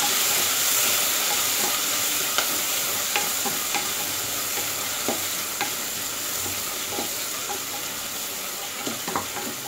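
Tomatoes sautéing in a hot pan for Hyderabad-style spicy egg dum biryani made with country eggs, a steady close sizzle and hiss with occasional light clicks of stirring throughout, no talk.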